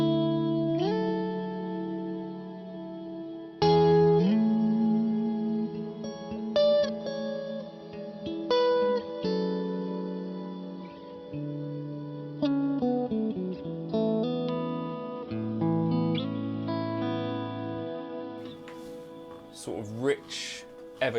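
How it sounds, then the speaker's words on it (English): Electric guitar run through a Fractal preset with rich, ever-changing reverbs and soundscapes and a volume pedal, playing sustained swelling chords and notes that ring into long ambient tails, with brighter plucked bursts near the end. "rich, ever-changing reverbs and soundscapes, and bringing in the volume pedal."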